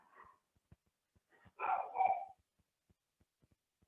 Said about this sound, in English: Sorry if you can hear my dog